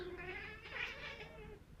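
Several cats chitter and chirp close by in an outdoor spot where offerings are set out, a continuous stream of quick, bright trills with no voices over them.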